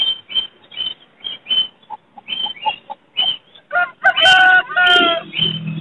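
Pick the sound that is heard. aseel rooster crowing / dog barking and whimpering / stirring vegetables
aseel rooster crowing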